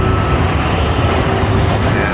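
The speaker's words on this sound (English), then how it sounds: "There is a lot of traffic here since it's close to the airport" Road traffic on a busy street near an airport, a steady, dense rumble of passing vehicles with no breaks, heard close and fairly loud throughout.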